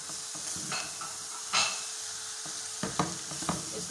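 Peas and carrots fry in a pan for Sri Lankan kottu while being stirred, a continuous sizzle punctuated by scraping strokes and occasional clinks of utensil on metal, close and fairly loud.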